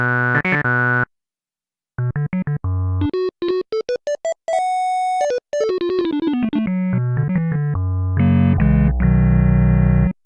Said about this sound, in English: It sounds like an Oberheim organ.